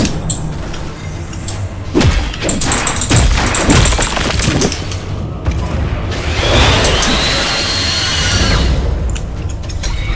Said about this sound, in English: The explosion. My goodness. Don't explode in your face.